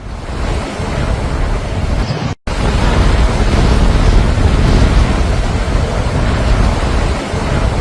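Floodwater surging during the South African floods, a loud continuous roar of rushing water with wind buffeting, broken by a brief cut near the middle.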